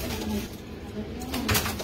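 Pigeons cooing in a home loft, low soft coos running continuously through the short stretch at a moderate, close level with no talk over them.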